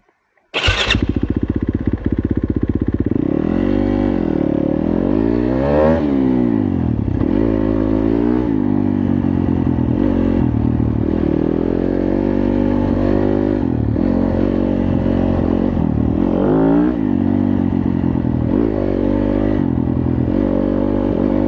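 A 2018 Yamaha YZ250FX dirt bike on a trail ride starts up loud and close, then its engine rises and falls through repeated revs and gear changes without a break, with no voices.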